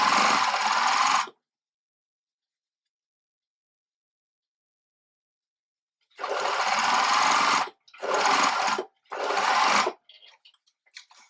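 A sewing machine stitches a seam on culottes in loud bursts: a long run, then after a silence three shorter runs in quick succession, followed by faint light clicks.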